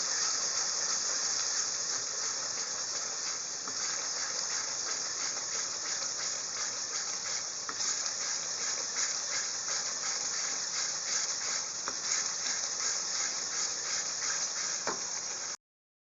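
Salt and turmeric being fried in a pan as the base for a spicy chicken bhuna, giving a steady, even hiss and sizzle that runs unbroken for the whole stretch before cutting off at the end.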